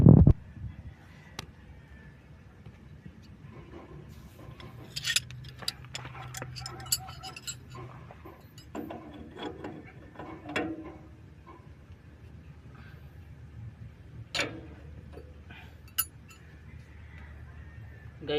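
A wrench working 17 mm bolts to remove a hydraulic strainer on an excavator, giving scattered metallic clicks, ratchet ticks and clinks spread unevenly over a low rumble, with occasional faint talk.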